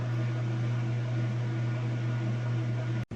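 Whirlpool washing machine winding down at the end of its spin cycle, a loud steady motor drone and hum that holds evenly, then cuts off abruptly just before the end.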